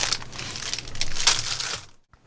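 Clear plastic 2.5 by 8 inch pretzel bags being crinkled and handled up close, a loud bright rustling crackle that stops abruptly into near silence.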